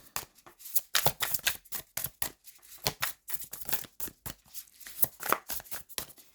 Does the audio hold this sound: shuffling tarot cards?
yes